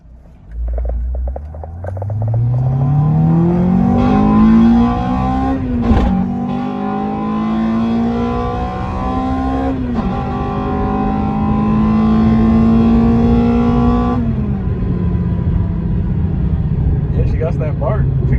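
A K20A2-swapped Acura RSX, converted from automatic to manual, revs loudly close by, the engine pitch climbing in repeated pulls and then holding a steady high drone with a deep exhaust bark.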